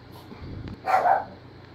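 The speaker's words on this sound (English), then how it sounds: "Dogs decided to bark at something." Dogs in a home bark, a single brief burst of barking at moderate distance over faint room noise.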